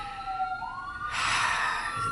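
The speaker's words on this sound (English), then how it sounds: "there's an ambulance going by" An ambulance siren wails through a rising and falling tone. Midway it swells into a loud, broadband rush as the vehicle passes close by.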